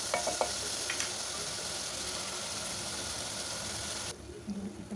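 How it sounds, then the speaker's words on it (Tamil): Onions and chicken liver sizzle and fry steadily in a pan, a dense close hiss with a few light stirring clicks early on, dropping to a softer, quieter sizzle near the end. "நல்லா பொன்னிறமாக வதங்குற வரையும் நல்லா வதக்கி விடுங்க"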